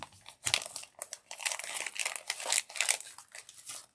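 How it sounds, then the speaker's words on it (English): Plastic bag being cut open on a table, a close, continuous crinkling and rustling of plastic with a few sharper tearing bursts, no talking. "Let's cut this open."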